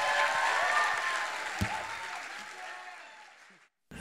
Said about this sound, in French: Applaudissons Christopher Martin.